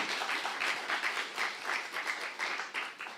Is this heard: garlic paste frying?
no